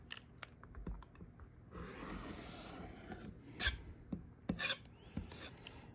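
Quilt block fabric is cut along a ruler, a soft scraping rasp with a few sharp clicks and taps from the cutter and ruler, faint and close with no talking.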